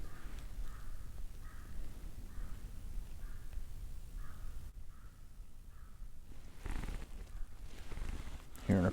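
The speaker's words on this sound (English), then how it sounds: "Hearing a crow off this direction." Crow cawing in cold woods, a series of faint, distant caws repeating at a steady rhythm over quiet outdoor background.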